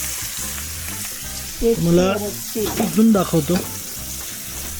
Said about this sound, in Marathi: तेल टाकते, तुम्ही एक एक मच्छी सोडा त्याच्यावर